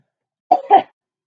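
Two quick, close coughs in a row, loud and abrupt, surrounded by silence.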